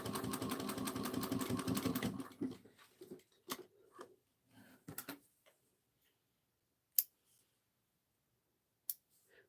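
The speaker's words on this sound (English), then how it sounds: "We're going to sew 1/8 inch from each marking." A sewing machine stitches a backpack in a short, quiet, rapid burst lasting about two seconds, followed by scattered soft clicks and taps and then near silence.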